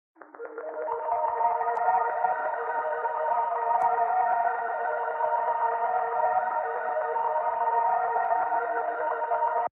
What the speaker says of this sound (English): I added a fully crystallized layer, which sounds like this.